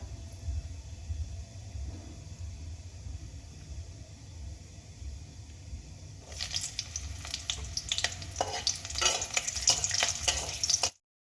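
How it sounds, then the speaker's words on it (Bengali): Black cumin seeds and slit green chillies fry in hot oil, a soft low sizzle at first that swells after about six seconds into louder crackling and spitting as the chillies hit, with no talk. "কালো জিরে আর কাঁচা লঙ্কা আমি তেলের মধ্যে ভালো করে ভেজে নিয়েছি।"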